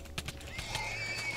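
A horse in Minecraft lets out a whinny with a rising then sliding tone, preceded by a few soft thuds and clicks of in-game action, with no voices.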